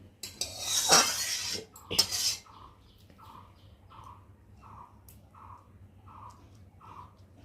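Metal serving spoons clatter and scrape against pots and plates as rice is dished out in a home kitchen, two loud bursts early, then quieter and fading, while a bird chirps repeatedly and evenly in the background.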